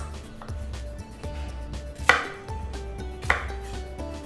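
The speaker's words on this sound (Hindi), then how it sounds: "दोनों साइड काट लूँगा और आप चाहें तो बीच से और एक बार काट सकते हैं" Knife chopping peeled raw bananas on a cutting board for a Navratri fasting jeera kela dish, a steady run of close, crisp chops with two sharper louder strikes, no talking.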